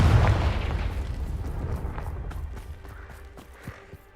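A Confringo spell explodes in the Hogwarts Legacy video game: a loud, booming blast at the very start that rumbles and decays over several seconds, with faint crackling debris trailing off.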